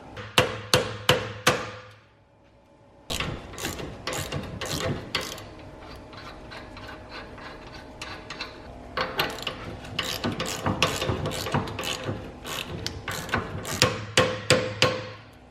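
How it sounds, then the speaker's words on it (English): Hammer tapping a bolt out of a BMW F30 toe link, with metallic taps in quick clusters, a short pause, then long runs of repeated ringing strikes and ratchet-like clicks, close and fairly loud. "you can lightly tap it with the hammer"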